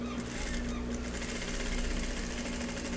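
A sewing machine stitches pieces of felt, running continuously with a steady, fast mechanical whir and hum at close range for the whole stretch.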